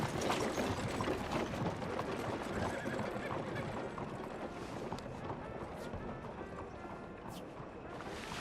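A horse in Red Dead Redemption 2 gallops with steady rhythmic hoofbeats and a neigh, loud and continuous, while a voice speaks over it.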